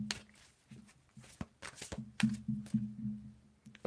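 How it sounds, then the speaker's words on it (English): Tarot cards are shuffled by hand in quick, soft riffling bursts with short pauses, quiet and close. "tell me when to stop shuffling"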